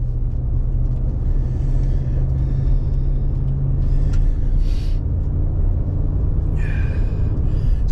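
A new four-wheel-drive truck drives along a road on a snowy trip to the village, a steady low engine and road rumble heard from inside the cab, with a few faint squeaks and rattles.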